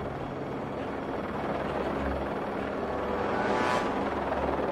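A helicopter drones steadily at a distance in the mountains, its low rotor thrum continuous and fairly faint, swelling slightly near the end, with no voices.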